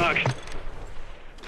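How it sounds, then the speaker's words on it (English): Gunfire in the video game Call of Duty Warzone, a short loud burst of shots at the start that fades into background game noise, with a voice briefly overlapping. "And he's being shot from the left"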